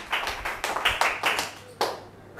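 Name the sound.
audience clapping hands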